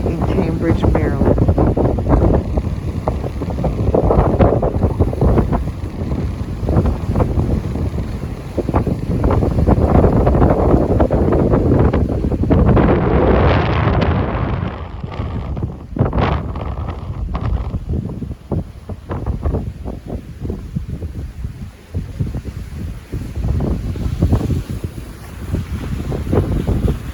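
Strong wind buffets the microphone over the Choptank River at Cambridge, Maryland, with a steady roar of wind noise and churning waves near the shore throughout, loud and continuous.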